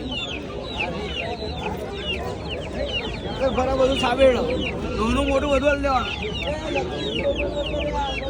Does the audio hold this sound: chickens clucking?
yes